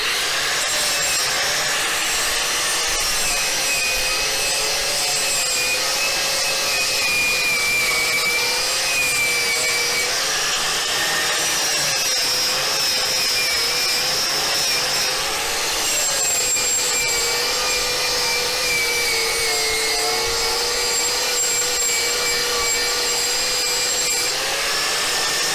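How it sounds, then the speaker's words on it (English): An angle grinder with a wire wheel works steadily on metal in a metal shop: a continuous, loud, rasping whine with a wavering tone runs the whole time, with no voices. "Let's take a look at the wire wheel."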